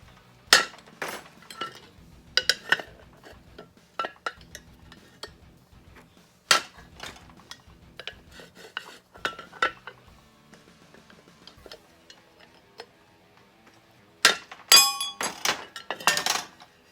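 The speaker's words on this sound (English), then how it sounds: "screwdriver or a little pry bar is what I'm using here, up against that lip. And I'm just going around and looking to tap that piece right off." Sharp metallic taps and clinks from a screwdriver or small pry bar knocking a hub piece off a backing plate on an M151A2 rear suspension, irregular strikes spaced out with quiet gaps and a busier cluster near the end.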